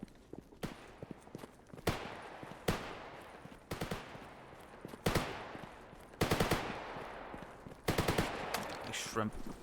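Video game gunfire rings out in a series of sharp, loud bursts and single shots spaced a second or so apart, with bright rapid-fire volleys and faint clattering between them.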